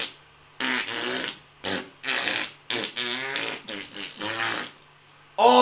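A fart cloud effect from a Smash Bros. video game: a string of blatty, buzzing fart blasts, about eight in a row with short gaps between them. They are fairly loud and up front, ending in a tonal squeal.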